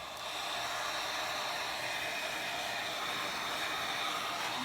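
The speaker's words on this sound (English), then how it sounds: "Let's hit it with the heat gun and it'll move." A heat gun blows a continuous, even whoosh of hot air over a paper journal project, holding steady from start to finish with only slight wavering and no talking.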